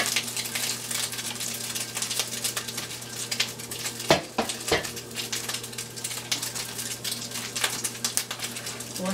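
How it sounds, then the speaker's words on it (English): Drained ground beef for a sloppy joe casserole tumbles back into a pan, with clattering cookware, stirring scrapes and utensil clinks over a faint sizzle and steady background hum, with a couple of sharp knocks midway. "So then I'm gonna put the ground beef back in there."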